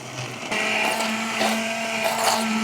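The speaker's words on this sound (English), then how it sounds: "busting out the old immersion blender and getting everything buzzed up" An immersion blender buzzes through chili pepper sauce with oil, a loud, continuous motor whine that steps up in intensity and wavers slightly as it churns.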